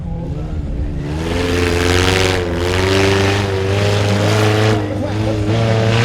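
A mini monster truck engine revs loud and close at a Potomac Speedway warm-up, holding a rough growling tone that rises and dips through several throttle swells.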